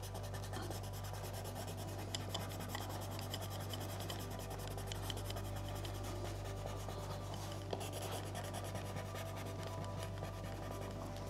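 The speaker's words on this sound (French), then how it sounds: "Maintenant, vous pouvez colorier avec un peu de" Steady firm rubbing of a crayon or pencil colouring a drawing, a continuous close scratchy texture over a low steady hum with no talk.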